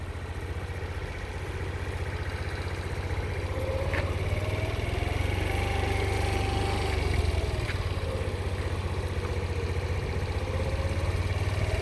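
A scooter engine runs steadily and fairly close, its pitch rising gently and easing back as the throttle is opened little by little, with light mechanical clatter and brief clicks.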